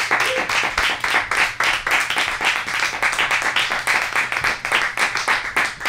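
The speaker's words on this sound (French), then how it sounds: "Je vous demanderai, messieurs, dames, de les applaudir." A French-language TV studio audience applauds two arriving guests with dense, steady clapping that fills all six seconds, close and loud, with no talk over it.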